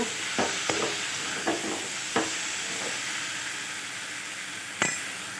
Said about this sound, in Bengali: পরিমাণ মতো নুন, ভালো করে একটু কষে নেব